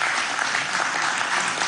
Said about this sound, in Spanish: de aquí también le damos nuestro amor, nuestro aplauso a María.